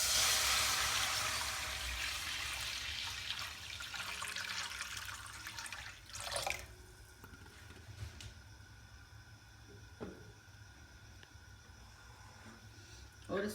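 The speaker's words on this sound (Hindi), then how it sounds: "इसमें हम खुला पानी डाल देंगे।" Plain water poured into a pan set on a stove for sweet zarda rice, a broad close splashing rush for about six seconds before tapering to faint drips and small clinks, with no talk over it.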